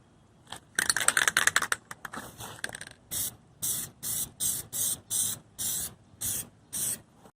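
Plasti Dip glossifier hisses from an aerosol can onto the wheels of a 2007 Ford Ranger in about nine evenly spaced short bursts, close and loud, after some clicking and rattling of the can.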